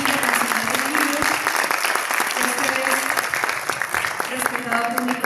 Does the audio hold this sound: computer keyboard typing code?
no